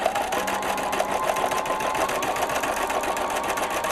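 A sewing machine runs fast and steadily, contour stitching with variegated multicolor Star thread on a beach bag, a close rhythmic mechanical whir and clatter with no talking.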